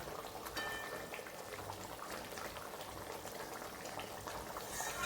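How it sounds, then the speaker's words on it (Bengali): Fish simmers in a mustard and poppy seed gravy, bubbling and popping steadily in a continuous soft boil, close and fairly quiet with no voices. "এবার এটাকে ঝোলের মধ্যে 2-3 মিনিট একটু ফুটিয়ে নেব।"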